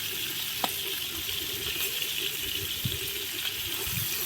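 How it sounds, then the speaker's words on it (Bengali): Rohu fish heads fry in a hot pan with a steady, even sizzle throughout, broken by a few small crackles and pops. "মাছের মাথাগুলোকে আমি ভালো করে ভেজে নিচ্ছি।"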